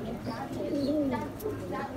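High flyer pigeons coo nearby, a low warbling call rising and falling once or twice, heard under someone talking.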